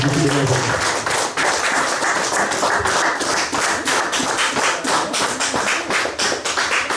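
A church congregation claps loudly to acclaim the Lord, a continuous dense rattle of many hands with a faint rhythmic beat running underneath.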